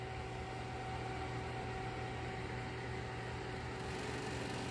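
A kitchen oven running steadily with a constant mechanical hum and fan-like whir, holding an even level throughout with faint tonal lines and no talk.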